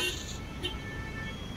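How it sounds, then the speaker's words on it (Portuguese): A busy-avenue traffic sound effect for the Itaquera district of São Paulo gives a continuous, loud roadway rumble, with brief car-horn toots near the start. "Coloquei um sonzinho de trânsito aí."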